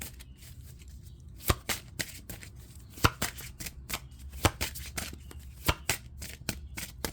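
Tarot cards being shuffled by hand, with a steady soft rustle and repeated sharp riffle snaps at irregular intervals, close up and with no talking.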